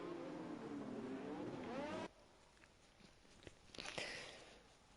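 A racing car engine in a sim racing game revs and rises in pitch for about two seconds as drivers warm their tyres in Bahrain, then cuts off abruptly, leaving faint distant engine sounds.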